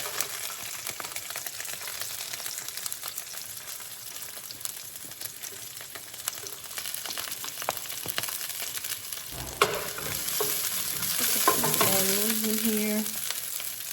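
Onions fry in a pan while being stirred, a continuous close sizzle with scraping stir sounds, growing louder as more hits the hot pan; a brief spoken remark is heard.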